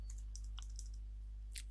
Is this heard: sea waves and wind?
no